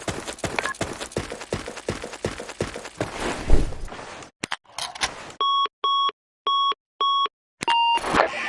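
In a Counter-Strike-style game, rapid footstep-like clicks give way to a planted bomb emitting a series of loud, evenly spaced electronic beeps, about five clear pulses, up close.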